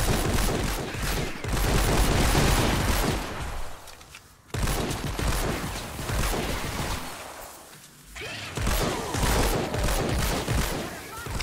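Sustained automatic gunfire from a gun in Fortnite: Save The World, loud and dense, in long bursts with brief gaps between them, with talk present.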